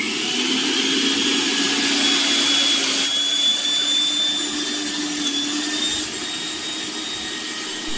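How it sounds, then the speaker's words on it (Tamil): A Butterfly Rapid Plus 750W mixer grinder runs with no jar fitted, its motor a loud steady whine with a high tonal hum throughout, close and alone with no talk. "ஃபர்ஸ்ட் உங்களுக்கு வெறும் மிக்ஸி மட்டும் ரன் பண்ணி காட்டுறேன்"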